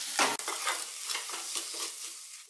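A dry stuffing of amchur, chili powder, anardana, coriander, hing and copra being stirred and roasted in a pan, a loud close continuous sizzle with a sharp spoon knock early on and repeated scraping strokes.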